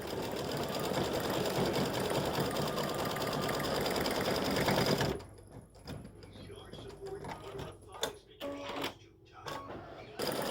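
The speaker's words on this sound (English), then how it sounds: "Now it's stitching the first flower that is in yellow, and you put down a very light underlay." A computerized embroidery machine stitching a yellow flower with a light underlay runs in a dense, rapid whirring chatter for about five seconds, then stops, leaving sparse clicks and small mechanical taps.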